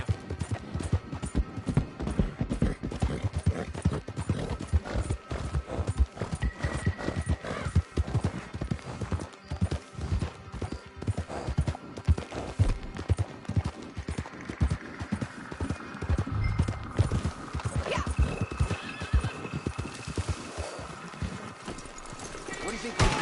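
Horse galloping with rapid hoofbeats throughout in the Red Dead Online video game, a steady drumming rhythm with occasional whinnies, while voices talk over it.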